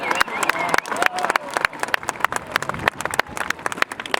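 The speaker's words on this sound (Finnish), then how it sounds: "Annetaan se Rockvallille aplodit, totta kai." A large crowd at Tappara's ice hockey championship celebration claps and cheers in an arena, the applause sitting under an announcer's voice that keeps talking throughout.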